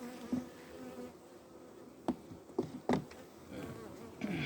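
Honeybees buzz around an open backyard hive, a steady near drone of many insects with individual bees zipping close past now and then.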